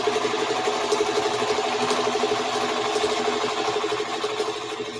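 A sewing machine stitches a feedsack hobo bag, its rapid even needle chatter running continuously at close range with a slight slowdown near the end.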